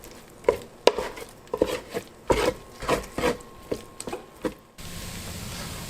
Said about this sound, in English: just keep on turning this until the eggs are done